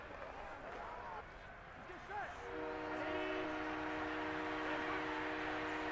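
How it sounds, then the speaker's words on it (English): Train horn blowing in the background, a steady sustained chord that starts partway through, faint and distant beneath crowd noise at a football game. "We have train horn going off in the background."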